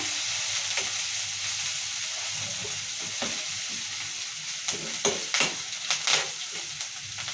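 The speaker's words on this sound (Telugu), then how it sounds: "పచ్చిమిరకాయలు కూడా నూనెలో మగ్గించుకోవాలి" Green chillies fry in hot oil with curry leaves for a bottle gourd curry, a close, continuous sizzle broken near the end by sharp crackles and stirring scrapes.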